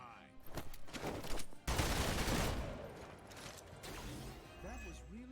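Bursts of gunfire in the game Marvel's Midnight Suns, a flurry of loud crackling shots and impacts that rise sharply then fade, with someone talking over the action.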